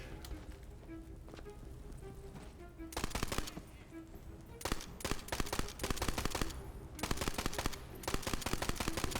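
Video game gunfire comes in rapid automatic bursts of loud, sharp shots, several rattling volleys in a row over a low background hum.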